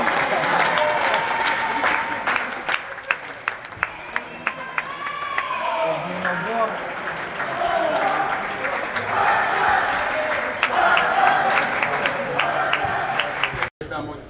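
At the end of an under-16 futsal match involving Barça, players applaud with loud, sustained, uneven clapping. Scattered sharp claps and crowd noise mix in, with voices talking over it.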